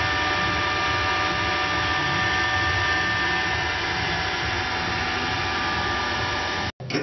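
Electric drive motor of an observatory dome giving a steady, close mechanical hum with a constant tonal drone, broken by a brief cut near the end.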